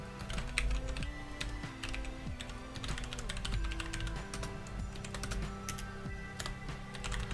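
Rapid, steady keystrokes clatter on a computer keyboard, close and fairly quiet, with irregular bursts of taps running throughout and no talking.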